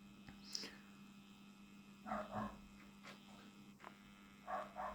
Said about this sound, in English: Apologies about the dog, that's the neighbour's dog,